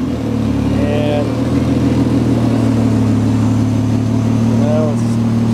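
A Mazda MX-3 engine idles with a steady low hum and rumble, continuous and close, with a couple of brief faint squeaks over it.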